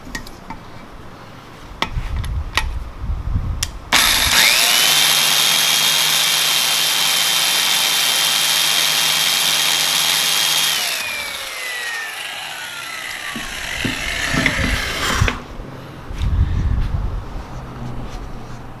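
Valve seats being ground on a 427 Tall Deck engine head, a loud sustained high-pitched whine from the grinder that starts abruptly, holds steady for several seconds, then winds down in pitch before stopping, with shop noise around it.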